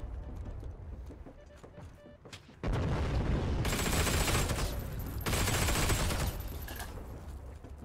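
Gunfire in the World War II shooter Heroes & Generals, starting as quieter background clatter, then bursting into loud, dense volleys of rapid automatic fire that come in two heavy waves and ease off toward the end.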